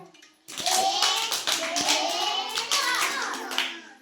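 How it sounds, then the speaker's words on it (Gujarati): Children in an anganwadi counting game clap their hands together in a short burst of three near claps, followed by continued scattered clapping and children's voices throughout. "હવે ત્રણ તાળી પાડો"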